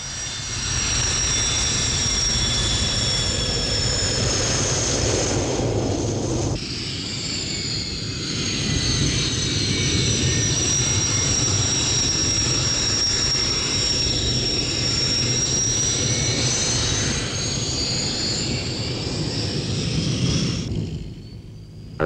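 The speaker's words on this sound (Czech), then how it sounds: "Motory jsou nahozeny, stojánka se vylidňuje." Military jet aircraft engines running on the apron as the flight taxis toward takeoff: a loud, steady roar with a high whining tone that holds throughout, with no voices.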